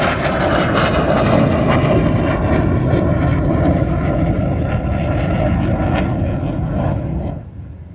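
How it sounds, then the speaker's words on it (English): North American F-100 Super Sabre jet making a high-speed pass at about 400 mph at an airshow in Louisiana, a loud sustained roar holding steady for several seconds before dropping off sharply near the end. "Watch from the left with a high-speed pass at about 400 miles an hour"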